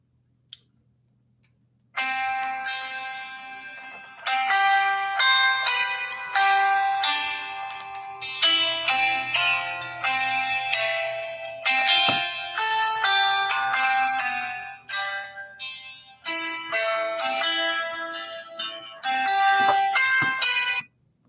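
A phone call ringing unanswered, a repeated electronic melodic ringtone in bursts with short gaps between them for about twenty seconds, clear and close with no talk.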